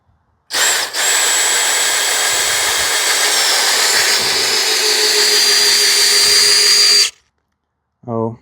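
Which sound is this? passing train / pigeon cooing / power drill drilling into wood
power drill drilling into wood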